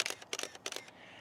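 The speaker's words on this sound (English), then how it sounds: "the shutter actuation" A DSLR camera fires its shutter three times in quick succession, each actuation a crisp, close mechanical clack-clack of mirror and curtain, followed by a quiet pause with no talking.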